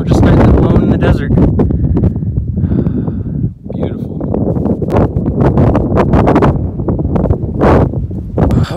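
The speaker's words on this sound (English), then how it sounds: "I was really hoping the wind would die down when it got dark, but it hasn't." Strong wind gusting across a desert campsite in Arizona at night, a loud continuous roar buffeting the microphone with brief dips, and a voice talking over it.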